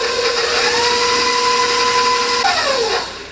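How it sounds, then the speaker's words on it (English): An electric mixer beats pistachio cookie dough with eggs, giving a steady, close whirring whine with a tonal hum that holds constant and then dips in pitch as it slows near the end. No one speaks over it. "add the other egg, the second egg. We're going to mix this for about 1 minute."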